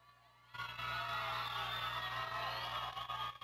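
After a brief quiet pause, an audience at a neighborhood dance competition final bursts into loud, steady cheering and shouting for a dance couple, with hum running underneath.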